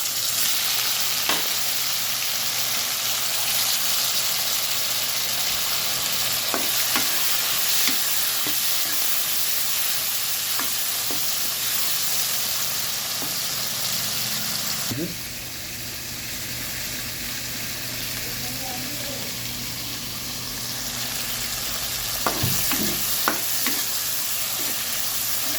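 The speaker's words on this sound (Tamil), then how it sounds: "அது கூட தக்காளி சேர்த்து வதக்குங்க." Tomatoes sauté with cumin and curry leaves in a pan for a spicy drumstick curry masala, a steady broad sizzle running throughout with occasional soft scrapes of a stirring spoon, close and even, no voices.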